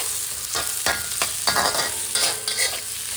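Cashews and spices frying in a pan with garlic and tomato, steady close sizzling with stirring scrapes throughout, no voices.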